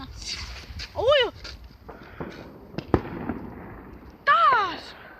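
New Year's fireworks rockets whistle up with rising shrieks and burst outdoors, with a sharp crack midway and another whistling rocket near the end, while people talk and shout around them.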